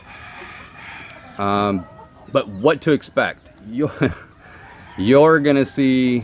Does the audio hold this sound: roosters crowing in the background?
yes